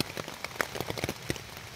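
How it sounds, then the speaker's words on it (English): Rain patters on a Fjallraven Abisko Lite 1 tent, scattered close drops tapping irregularly on the fabric over a soft steady wash, with no talking. "the rain coming"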